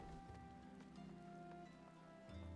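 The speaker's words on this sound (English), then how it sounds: "It's raining?" Rain in the desert zone of the video game Final Fantasy XIV, a quiet steady patter under the game's droning background music, no voices.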